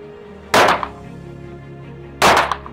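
Two loud gunshots at an indoor shooting range, about one and a half seconds apart, each a sharp close crack with a brief ringing echo over quiet room noise.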